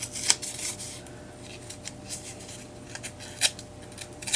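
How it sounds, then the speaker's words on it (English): Scissors snip around the edges of paper to tatter a black border for an egg decor craft, with quiet, irregular sharp cuts and soft rustling spread across the clip and no voice. "I even brought in my scissors and just went around the edges and tattered it"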